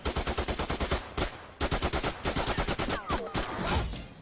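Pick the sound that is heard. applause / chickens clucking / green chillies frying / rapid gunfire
rapid gunfire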